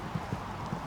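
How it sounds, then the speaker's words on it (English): A show jumper's horse clip-clops across the arena at an international show jumping Nations Cup at Hickstead, with steady, fairly loud hoof strikes spaced a beat apart over an open crowd ambience. "Riding Tovek's Mary Lou"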